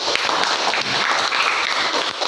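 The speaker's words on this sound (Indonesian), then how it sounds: "Tepuk tangan untuk yang bertanya." A class of students in an Indonesian school lesson claps together in continuous applause, dense and fairly loud, lasting a couple of seconds before tapering slightly.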